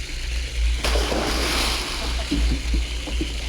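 Trainees splash and wade through a chest-deep water obstacle during 1969 Air Force basic training, with continuous loud sloshing and churning water, some distant shouts mixed in.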